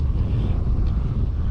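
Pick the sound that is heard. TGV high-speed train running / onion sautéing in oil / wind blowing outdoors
wind blowing outdoors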